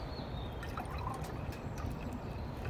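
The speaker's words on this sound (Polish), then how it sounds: "I teraz trzy takie same miarki, czyli trzy też takie ilości, takie centymetry wody." Water pours into a cooking pot at a spring campsite, a faint, soft trickle and splash against quiet outdoor background noise.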